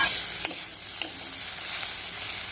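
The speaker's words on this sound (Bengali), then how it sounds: "এই যে উচ্ছে আর পেঁয়াজ দিয়ে ভাজাটা করছি" Bitter gourd and onion frying together in a pan at home, a loud continuous sizzle close up, with two brief sharp stirring clacks, no voices.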